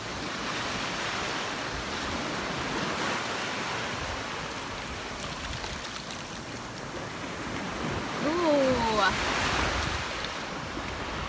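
Ocean waves wash onto a beach in a broad, steady roar with gusts of wind buffeting the microphone, swelling louder near the end, while a faint voice briefly cuts through.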